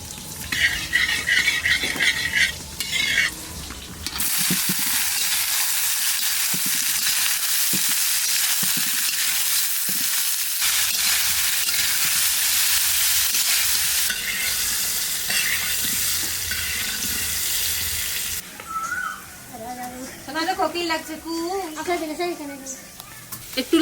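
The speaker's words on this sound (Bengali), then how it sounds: "একটু লাল লাল হয়েছে পেঁয়াজটা, আরো লাল লাল করে ভাজবো" Onions fry in oil with cloves, cinnamon, cardamom, bay leaf and a pinch of sugar, giving a loud, steady sizzle with occasional stirring. Someone talks over the frying at the start and again near the end.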